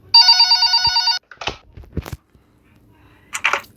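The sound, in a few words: telephone ringing in a nurse horror video game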